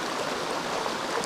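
A small waterfall stream in autumn woodland, its water running steadily in a continuous close rush with no voices.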